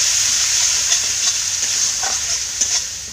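Poppy seed paste masala frying in a pan while being stirred, a loud, close, constant sizzle with occasional soft spatula scrapes.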